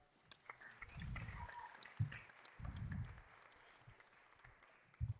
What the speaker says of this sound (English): Give another round of applause for everybody.